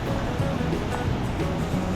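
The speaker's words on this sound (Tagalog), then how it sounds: "Napakalakas ng alon eh, no?" Steady broadband rush of strong ocean surf rolling in on Sabtang Island, Batanes, continuous and fairly loud with no distinct breaks, heard close to shore.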